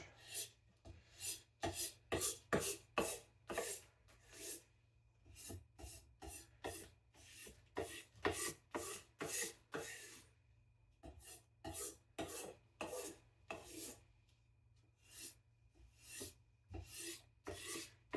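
A knife is stropped on a strop after sharpening on an Atoma diamond plate, giving quiet, rhythmic rasping strokes in quick bursts with short pauses and no talking.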